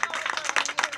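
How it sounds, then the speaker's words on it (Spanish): A burst of lively applause from a crowd at a school open house, quick overlapping claps that rise and fall briefly. "Un aplauso para Jocelyn, un aplauso fuerte."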